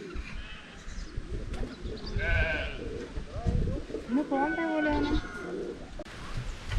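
Goats bleat, rising and falling several times amid outdoor bustle on a farm with buffaloes in Nelliyampathi, Palakkad, with a person talking and birds faintly in the background.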